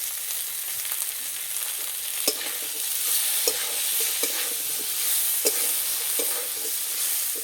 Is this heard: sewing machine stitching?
no